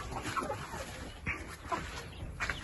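Soft, scattered clucking from a few hens in a coop on a Ukrainian farm, short murmuring calls coming and going over a faint background hiss.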